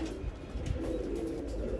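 Low, soft cooing of a Malwai breed pigeon repeats steadily throughout, fairly close, with no voices.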